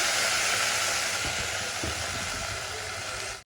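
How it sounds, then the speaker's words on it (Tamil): Coriander leaves sautéed in a pan for a coriander-coconut thuvaiyal, a steady broadband sizzle and hiss with a few soft stirring knocks, close and continuous before cutting off abruptly. "இப்போ இந்த கொத்தமல்லி எல்லாருமே திருப்பி விட்டு வதக்கிக்கோங்க."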